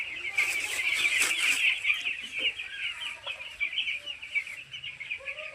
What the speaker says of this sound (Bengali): মুরগির বাচ্চা দেখুন